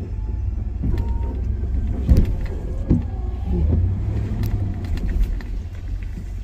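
A truck's wheels spin on an icy road behind a new building, a steady low engine rumble and whirring tire spin with a few brief louder surges, close and continuous throughout.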